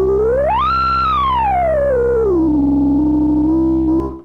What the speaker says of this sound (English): That's the wave shaper.